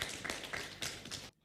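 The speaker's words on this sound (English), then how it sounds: "Please, a round of applause for the Honourable Minister in that regard." Brief burst of clapping for a government minister at a formal event, a short round of applause from a modest crowd that cuts off abruptly into quiet.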